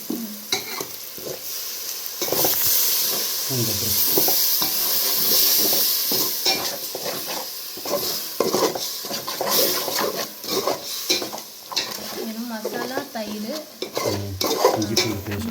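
Curd is stirred into a hot pan in a home kitchen, giving a steady sizzle with repeated close scrapes and clinks of a spoon against the pan in an uneven rhythm. No voices are heard.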